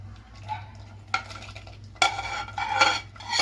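A jaggery sweet being stirred with ghee in a pan, close spoon scrapes and clinks against the metal over a faint sizzle, growing busier toward the end.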